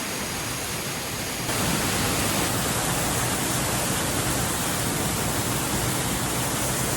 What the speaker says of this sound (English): There it is, not the bonniest of waterfalls